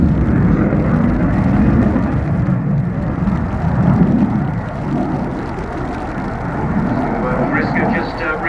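A Belgian Air Force F-16 jet flies a display in the rain at an air show, its engine a steady distant roar with rumbling swells, while a commentator talks over the loudspeaker throughout.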